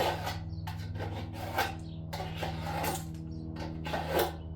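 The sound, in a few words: hand file cleaning up a cut metal edge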